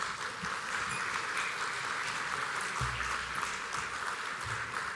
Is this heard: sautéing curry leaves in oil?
no